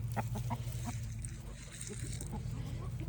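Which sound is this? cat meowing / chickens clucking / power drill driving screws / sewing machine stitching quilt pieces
chickens clucking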